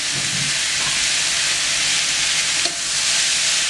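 Diced tomato sizzling in olive oil on a hot plancha, a steady loud hiss of frying with faint stirring scrapes throughout.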